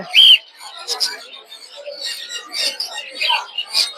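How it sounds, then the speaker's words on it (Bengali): Gouldian finches chirp in quick, high-pitched calls at a bird market in Mirpur 1, Dhaka, close and scattered over several seconds, mixed with faint chatter in the background. "গোল্ডিয়ান ফিন্স"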